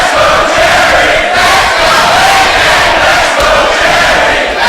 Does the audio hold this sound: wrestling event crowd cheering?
yes